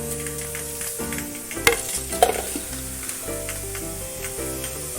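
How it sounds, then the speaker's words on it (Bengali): Raw mango pieces for pickle fry and sizzle in a pan, close by, with a steady crackle broken by a few sharp clinks and scrapes of a spoon stirring. "কড়ায় আমি আমগুলো দিয়ে দিলাম।"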